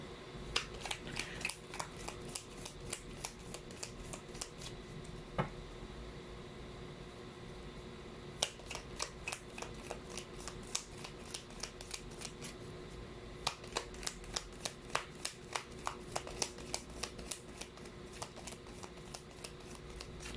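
Oracle cards, stiff and hard to shuffle, are shuffled in repeated quick riffling bursts, crisp rapid flutters separated by short pauses, close and fairly quiet.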